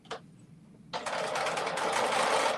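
A sewing machine stitching along a dress strap: a brief buzz, a pause, then a steady, fast, close-up mechanical whir that keeps running to the end.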